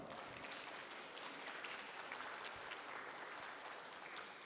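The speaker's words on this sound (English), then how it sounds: "let's give a round of applause again for Matt" Applause for speaker Matt from an audience at an ICPC programming-contest education session: a faint, continuous patter of many hands clapping at an even level, with no pauses.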